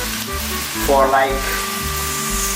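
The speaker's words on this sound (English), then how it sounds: "We're gonna put the tomatoes in the boiling water" Tomatoes dropped into a pot of boiling water while making minestrone, a brief loud splash and bubbling burst in the middle over a constant low hum, with a short spoken phrase.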